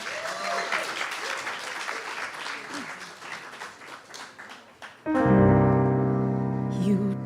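Applause from the audience at a live gig greets a singer. It swells suddenly and loudly after a stretch of background crowd noise, then sustains as dense clapping with a few cheers.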